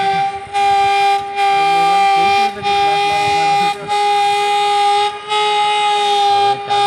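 A loud, steady siren wails continuously, its tone holding with brief periodic dips, close by and with no talking.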